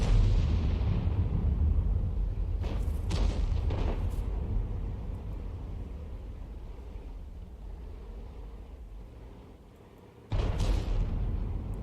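Artillery fire from a Conqueror Gun Carriage in a video game: a heavy booming blast opens and slowly rumbles away, sharper cracks follow, and another loud boom hits near the end.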